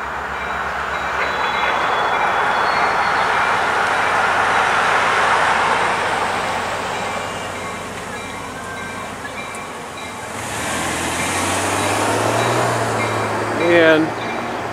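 NYS&W freight locomotive number 3040 rolls southbound along Schuyler Street in Utica, New York, a steady rumble and rattle of wagons close by, with a horn-like tone building late and a voice talking over it.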